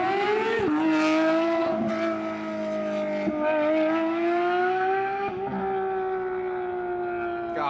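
A loud Ford GT drives by on the street, its engine howling at high pitch with rising and falling revs through several shifts, close and dominant for the whole stretch.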